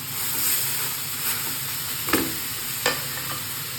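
Half-cooked vegetable biryani mixture sizzling in a pan over a slow flame, with a constant close hiss and a few scraping stir strokes.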